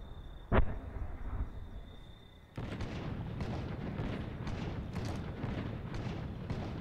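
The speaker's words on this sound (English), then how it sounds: "Fireworks." Fireworks in State of Decay start with one sharp close bang, then a dense run of crackling bursts and booms fills the rest, moderately loud, with no talk.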